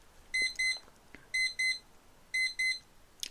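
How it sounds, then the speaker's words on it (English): A timer alarm goes off in three bursts of loud paired electronic beeps with short pauses between them, over a quiet room. "that timer just went off"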